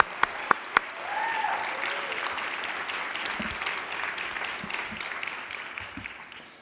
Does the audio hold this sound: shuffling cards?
no